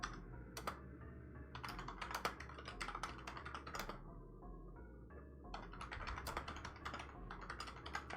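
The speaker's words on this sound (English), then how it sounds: "I hear just Freaky pounding on his keyboard." Rapid keystrokes on a computer keyboard during an online tabletop role-playing game session, close and continuous with irregular bursts and brief pauses, no talk over it.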